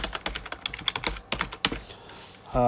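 Fingers type on a computer keyboard close by in quick, uneven bursts of clacking keystrokes. The typing stops for a short pause, and a brief tonal sound follows at the end.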